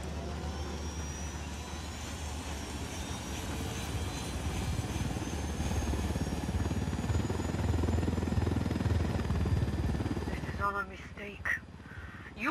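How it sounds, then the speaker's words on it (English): A helicopter in the video game Ghost Recon Wildlands drones with a steady low rotor and engine rumble that grows louder toward the middle, then cuts off abruptly near the end amid brief clatter. "Let's take your helicopter."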